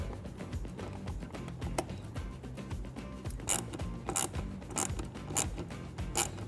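A 1/4 inch drive ratchet with a Torx bit snugs down the bolts of a 2015-2022 Dodge Charger side marker light, giving close, continuous ratcheting clicks with a few sharper bursts and no speech.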